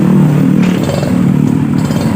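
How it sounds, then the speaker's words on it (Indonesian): A Honda Beat scooter engine runs right after its CDI unit has been swapped, a close, steady idle with a clattering mechanical hum throughout and no talking. "Motor langsung menyala ya."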